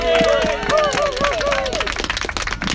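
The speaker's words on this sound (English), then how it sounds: "I'd like to start by everyone giving them a really big cheer" A crowd at an evening gathering cheers and claps for youth climate strikers, with clapping and voices filling the whole stretch and shouts rising over the applause.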